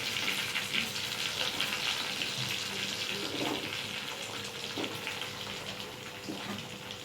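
Chopped tomato lands in a hot frying pan for a Bengali loti and prawn dish, setting off a steady, fairly close hiss of sizzling oil with a few soft stirring scrapes, no talking.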